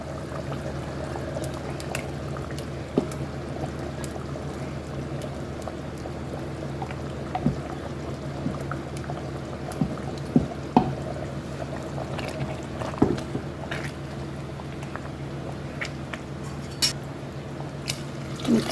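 A ground spice paste goes into a simmering Tamil kuzhambu made with mochai beans and brinjal, giving a soft, steady bubbling and liquid pour with scattered small clicks and plops, close and fairly quiet, with no talking.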